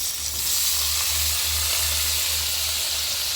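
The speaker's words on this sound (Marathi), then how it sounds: "सो हिंगा फ्रायींग पॅन दवरला न्हू तितून बटर घाता 1 क्यूब असो ते बरो मेल्ट केला तितून ती प्रॉन्स घाता" Prawns frying in melted butter in a frying pan, a steady loud close sizzle with a faint low hum underneath and no talk.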